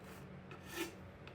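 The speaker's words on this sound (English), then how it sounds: "I then used a small file to chamfer the inner edges." A small hand file rasps along the inner edges of a wooden kitchen utensil holder, putting on a chamfer with a few soft, close, quiet strokes.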